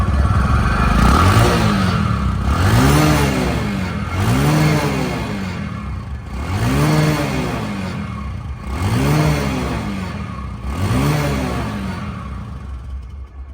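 A 2017 Bajaj Discover 100cc motorcycle engine, kick-started and running, revs repeatedly in regular rising and falling surges, loud and close, with no talking.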